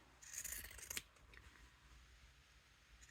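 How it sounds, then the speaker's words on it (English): Pinking shears snip through fabric around an embroidered border, giving a brief cluster of close, crisp cuts in the first second and then a quiet room. "I'm gonna take my pinking shears and I'm gonna go around it"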